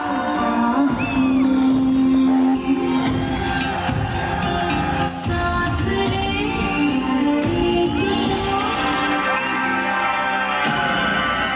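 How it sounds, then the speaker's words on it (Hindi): An audience claps and cheers loudly to welcome a company managing director on stage at a corporate event, a sustained crowd roar with whoops and shouts under music. "जोरदार तालियों के साथ स्वागत कीजिए हमारे असली शहंशाह का।"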